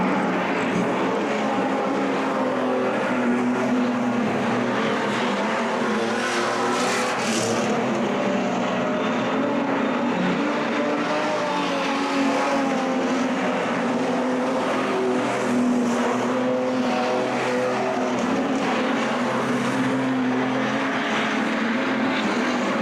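Six street stock race cars roll away to begin practice laps on a dirt track at a state title event, a steady loud engine roar with rising and falling revs that hold throughout, no voices.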